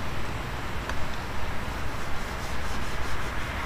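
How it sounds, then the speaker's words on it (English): A soft, steady rubbing swish as thick, non-runny Adam's VRT tire dressing is worked into a tire sidewall around the raised lettering, close and quiet, with no talk. "Kind of have to work it in around all the letters because it's not real runny"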